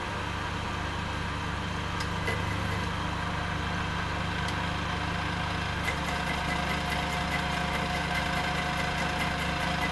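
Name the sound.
grinder running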